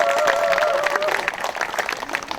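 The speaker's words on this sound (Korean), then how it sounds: "권희영 시의원님께서도 자리해 주셨습니다. 박수 부탁드리겠습니다." At a May 18 memorial ceremony, an audience claps for an arriving city councillor. The steady applause carries a brief tonal sound near the start and thins slightly toward the end.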